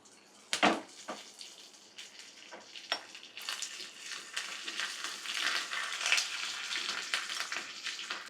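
Ginger, chillies, mustard seeds and cumin hit hot oil for dal tadka, giving a steady crackling sizzle with a few sharp pops near the start, then a fuller spitting fry that holds on with no talk.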